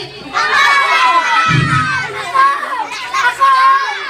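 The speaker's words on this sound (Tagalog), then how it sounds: "Ibibigay ko na ito sa malakas, pumalakpak at sumisigaw" Children shout and cheer loudly, close by, at a first birthday party. The excited crowd noise rises and falls in bursts, with children's voices and chatter mixed throughout.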